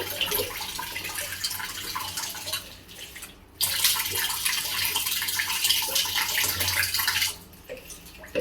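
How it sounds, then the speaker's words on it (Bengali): Water pours and splashes from a tap into a basin at night, a steady hiss that breaks off briefly twice and then resumes, heard up close without talk. "আমার দিকে আবার জল পড়ছে"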